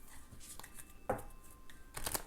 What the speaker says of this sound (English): I have the worst time shuffling this deck.